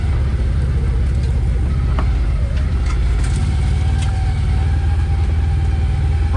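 A brand-new CFMoto UForce 1000cc side-by-side climbing a mountain, its engine held at steady elevated revs, a loud, continuous low drone with no one talking over it.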